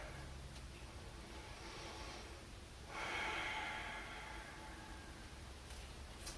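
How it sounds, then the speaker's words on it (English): Slow breathing during a yoga flow, a soft inhale and exhale close to the microphone with a brief louder breath midway, over faint background hiss and no talk. "Just take a breath here."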